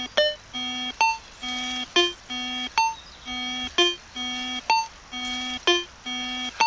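Signum 7272M metal detector giving a repeated electronic signal tone, a regular pattern of short beeps and sustained low tones cycling about every second, fairly faint with no talk over it.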